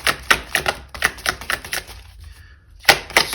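Oracle cards are shuffled and drawn in a rapid run of crisp, close riffling clicks. A short pause follows, then a final burst of card flicks.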